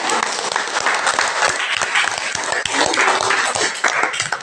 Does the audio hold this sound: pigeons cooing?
no